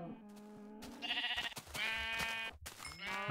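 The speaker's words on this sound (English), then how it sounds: "While I'm out here, I'm gonna go ahead and take care of these sheep." Sheep in a video game bleat in quick succession, several short wavering calls close and clear against quiet game background tones.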